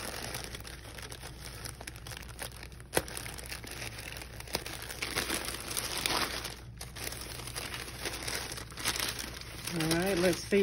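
Wrapping paper on an unboxed purchase is handled and crinkled in steady bursts of rustling, close and moderately loud, with someone talking briefly over it.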